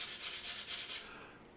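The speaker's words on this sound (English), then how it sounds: "I will rotate my left hand a little bit while moving the sandpaper with the grain" Sandpaper rubs along the grain of a reed in short back-and-forth strokes, a soft close-up rasp of about five passes that stops after a second.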